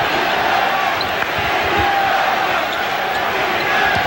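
Capacity crowd at Madison Square Garden during a 1992 Bulls–Knicks playoff game, a dense, steady arena roar of voices that carries through the whole stretch, with faint bouncing and scattered thumps underneath.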